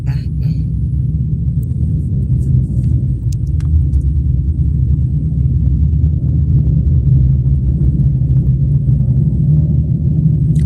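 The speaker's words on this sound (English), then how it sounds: "Oh, that's the motorcycle now." A Harley-Davidson Fat Boy motorcycle passing on a street, a loud, continuous low engine rumble that holds steady throughout with faint scattered background noise.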